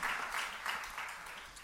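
A church congregation claps during a Sunday worship service, a faint, distant, steady patter of applause.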